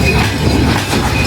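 Simanta Express intercity train at Joypurhat railway station, a continuous loud rolling rumble with a broad noisy roar from the carriages, heard close with no talking.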